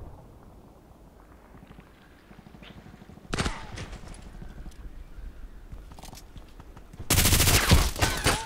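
Gunfire in the video game Contract Wars during a hardcore deathmatch, a sudden loud burst of shots followed by scattered single shots and then a louder sustained volley of rapid fire over quieter game ambience.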